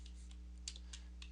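Keystrokes on a computer keyboard, a handful of soft, irregular clicks spaced apart over a steady low electrical hum, quiet and close.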